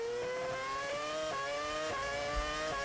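A 2007 Formula 1 V8 engine screams at high revs during Malaysian Grand Prix qualifying, its pitch climbing in repeated sweeps broken by quick upshifts, loud and steady with no talk.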